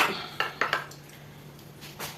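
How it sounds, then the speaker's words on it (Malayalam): Clay cooking pot picked up among dishes in a home kitchen where fish curry is cooked, giving a few quick ceramic clinks and knocks, close and fairly faint, with no talking. "അങ്ങനെ ഞാൻ ആ ചട്ടി എടുക്കാം"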